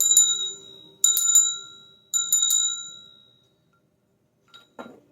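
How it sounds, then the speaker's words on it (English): A small bell rung to cleanse a tarot deck chimes three times in clear, bright strikes about a second apart, each ringing out and fading, followed by a couple of faint soft knocks. "I'm going to ring the bell."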